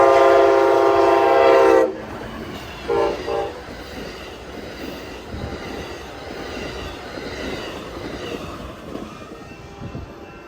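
Union Pacific train horn blares loud and close at a crossing with gates, one long blast followed by two short ones, then the rumble and rattle of rail cars passing.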